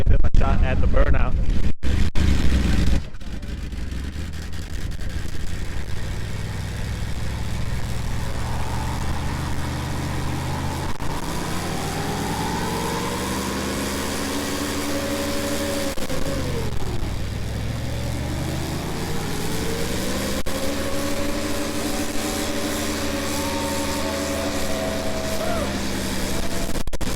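A car engine revs hard during a burnout in a burn box at a hot-rod show, with long rising and falling harmonic sweeps over a steady roar. A brief loud burst comes at the start.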